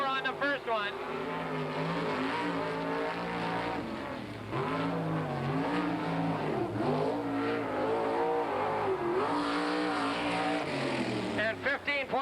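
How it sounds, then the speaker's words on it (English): Sprint car engines from the 1987 World of Outlaws event at Hales Corners roar through a qualifying time trial lap, a loud sustained rasp rising and falling with throttle under steady commentary from an announcer. "Mark Kinser in the 48 car gets his time in the books"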